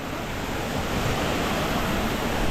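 Bahubali waterfall roaring as a constant broadband wash of falling water, loud and steady throughout with no voices.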